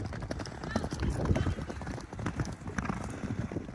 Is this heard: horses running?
yes